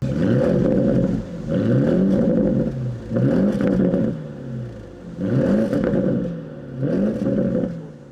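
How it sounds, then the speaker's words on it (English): A 2023 Porsche Cayenne Turbo GT with titanium sports exhaust revs repeatedly, with loud, close engine blips that swell and fall in about five bursts with short pauses between, and no talking. "titanium sports exhausts, which sound sensational. They make a lot of noise."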